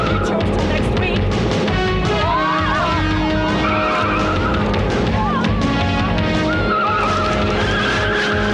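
A car skids with squealing tires during a police chase in a TV comedy, the screech loud and sustained with engine noise, voices and music mixed in.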